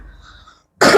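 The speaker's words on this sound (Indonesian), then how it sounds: "mohon maaf batuk." A single sharp cough bursts out at the end after near silence, loud and close.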